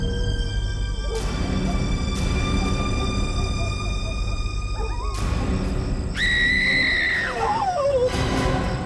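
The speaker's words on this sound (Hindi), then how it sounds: "वो चीखने की आवाज?" A single shrill scream rises sharply and then trails off, mid-scene in a tense Indian crime-drama moment outdoors by a tree, heard over a steady background hum and brief impacts.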